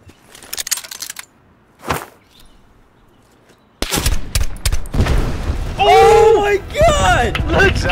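A cluster bomb detonates in the Call of Duty Black Ops 4 beta, scattered sharp cracks and booms followed by a loud burst of gunfire and blasts, with excited voices talking and shouting over it.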